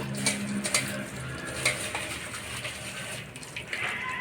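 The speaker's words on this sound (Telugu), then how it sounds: "అల్లం వెల్లుల్లి పేస్ట్ అలాగే ధనియా పౌడర్ వీటిని బాగా మిక్స్ చేసుకోవాలి" Ginger garlic paste, yogurt and coriander powder being stirred together in a pan for cauliflower dum biryani, giving a steady scraping and clinking of a spoon against metal, close and continuous with no talking.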